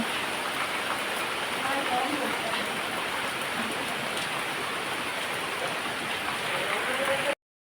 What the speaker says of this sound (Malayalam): അപ്പം നല്ല മഴയാണ്